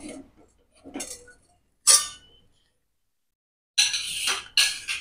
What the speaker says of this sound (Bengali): এখন এই কড়াইটা সাইডে ধর, এই পাশে থাক। এবার আমি এই কড়াইটা বসিয়ে দেবো।